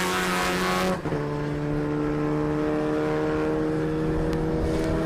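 Volkswagen Polo race cars in a championship race roar past on track, engines droning loud and steady with a sharp shift in pitch as one car changes gear, the tonal engine hum sustained throughout.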